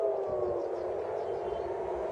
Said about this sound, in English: we're hearing the sirens in Haifa, so there's going to be a missile